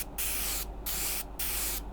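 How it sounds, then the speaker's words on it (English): A cheap airbrush sprays paint across a model wing in four even bursts, each a loud, close, broadband hiss separated by brief silent gaps. "So with the airbrush now, we can spray this wing"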